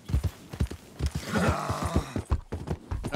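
Horse hooves in Red Dead Redemption 2 clopping in a quick rhythmic beat, close and fairly loud, mixed with a brief whinny-like tone in the middle.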